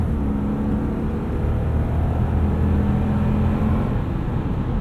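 A 2018 Toyota Land Cruiser LC200 with an 8-speed automatic accelerates, a steady close engine drone and road rumble holding level throughout without any talk.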